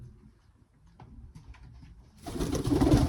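Show-quality tiger pigeons in a breeder's loft coo softly in low, throaty calls, a few close coos over quiet background before a louder rustling flurry of movement near the end.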